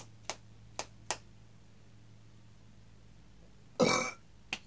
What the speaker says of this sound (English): Ah, good old Mountain Dew burp,